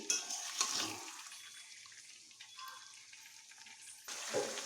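Chicken sizzles in a pan while being stirred and slowly browned, a steady close hiss with a few louder scraping bursts at the start and end.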